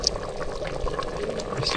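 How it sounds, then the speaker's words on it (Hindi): Cooking oil poured into a pot of onions for a black chickpea curry, a soft continuous liquid pour and light sizzle under a voice speaking. "हम इसमें ऑयल शामिल कर देंगे ताकि हमारा प्याज जो है अच्छी तरह घुल जाए।"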